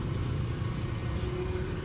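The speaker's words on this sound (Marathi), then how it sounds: "12 महिने 24 तास ट्रॅफिक असते ह्या रस्त्याला." Steady road traffic on a busy street, a continuous close rumble of car and motorcycle engines idling and passing without pause, with no voices.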